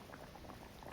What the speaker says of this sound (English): bring to a boil, simmer for 1 to 2 minutes.